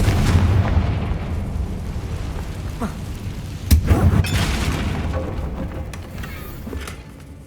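A Confringo fire spell explodes in the Hogwarts Legacy video game, a low rumbling boom at the start, then a sharper burst of blasts midway, fading to a settling rumble of debris.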